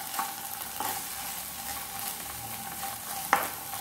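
Finely chopped onion frying in a pan for masala macaroni, a steady close sizzle with occasional stirring scrapes and a small clack near the end.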